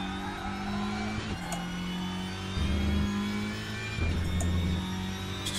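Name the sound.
race car engine revving through gears in video game Raceroom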